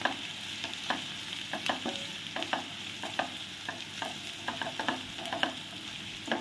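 Beans and ginger garlic paste fry in a pan, a soft continuous sizzle broken by repeated scraping and tapping of a stirring spoon, close but fairly quiet.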